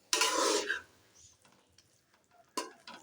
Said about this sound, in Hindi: पहले आपने अच्छे से आलूओं को मिक्स कर लेना है इस तरीके से ऐसे।